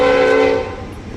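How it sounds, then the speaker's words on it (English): Train horn blaring loud and close as it passes, a sustained chord that dips in level toward the end, over a rumbling low background. "stupid train"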